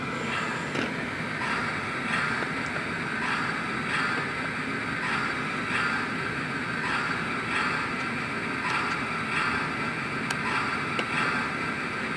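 A steady mechanical whir and hum of a small Polar Express model train engine running continuously, with faint rhythmic clicking throughout.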